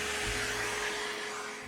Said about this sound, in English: I will use a vacuum with an agitating brush to vacuum out the dust on the inside of the ports